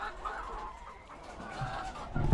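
Backyard pet hens cluck softly and sporadically nearby, with a louder burst of clucking at the very end.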